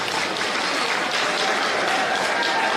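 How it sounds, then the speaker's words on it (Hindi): Women in a crowd at a public address by Rajasthan Chief Minister Ashok Gehlot clap together, a dense, even wash of applause lasting the whole stretch with no speech over it. "महिलाओं को चाहिए ताली जोरदार बजाए, महिलाओं को ताली जोरदार बजानी चाहिए।"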